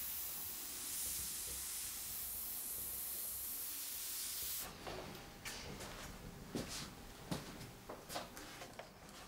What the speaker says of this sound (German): Seit über 30 Jahren sprüht Udo mit Airbrush-Pistolen.